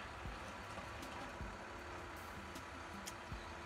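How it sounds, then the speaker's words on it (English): A recycling truck's large engine rumbles steadily nearby, a low continuous drone with occasional faint clanks and thumps. "that was the recycling truck"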